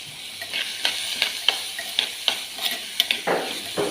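Curry leaves frying in a pan for a prawn theeyal, a soft sizzle broken by repeated close spoon stirs and scrapes in an uneven rhythm.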